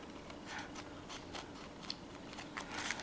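Scissors snip through a paper business envelope during trimming, a few soft, crisp cuts at close range against low background hiss.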